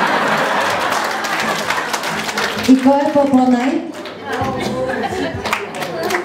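Wedding guests applauding the bride and groom at a Bulgarian wedding reception, clapping under loud overlapping talk and crowd noise, with voices calling out over the sustained applause.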